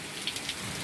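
Rain falls steadily on a stormy night, a dense even hiss with a few faint drop ticks, no voices.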